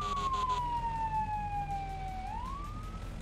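A police-style siren wails from a fire truck in the Firefighting Simulator video game, one long falling sweep that rises again near the end, loud and steady over a low engine drone, with no talk.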